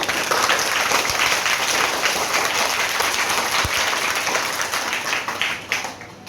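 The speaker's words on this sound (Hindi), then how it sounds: "तो इसके लिए तो पहले आप जोरदार तालियां बजाइए।" Audience applause at a farewell ceremony honouring a promoted colleague, a dense, steady wash of many hands clapping that holds loud for about six seconds before easing slightly at the end.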